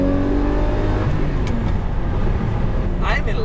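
Loud, close V12 engine note of a manual Lamborghini Murcielago held at steady revs and then shifting pitch, with short mechanical knocks and a burst of higher-pitched noise toward the end.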